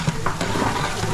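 Mutton sizzles as it is tossed into hot tempering oil for a big village fair cook-up, giving a short burst of crackling fry and a stirring scrape.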